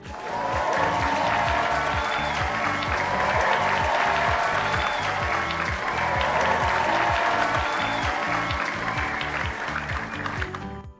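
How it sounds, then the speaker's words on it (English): Audience applauding steadily and loudly for the winning teams at the end of an OBOB (Oregon Battle of the Books) quiz competition, a dense sustained clapping that holds for about ten seconds before cutting off. "Let's give a round of applause to both of our teams."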